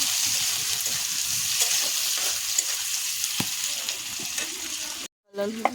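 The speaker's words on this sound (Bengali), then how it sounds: "পেঁয়াজ কুচি দেব পেঁয়াজটা আমি ভালো করে ভেজে নেব" Chopped onions fry in a hot pan with bay leaf and garam masala while cooking jackfruit and prawn curry, a steady close sizzle with small crackles and stirring scrapes, ending in a brief gap and a clatter.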